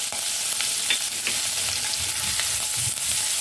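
Garlic and green chillies fry in butter for a creamy homemade pasta, giving a loud, dense, steady sizzle and crackle throughout, with faint spatula scrapes now and then and no voices.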